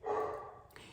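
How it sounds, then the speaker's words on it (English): A dog gives one short bark close by, a brief single yelp with nothing else around it. "excuse my dogs, they're barking"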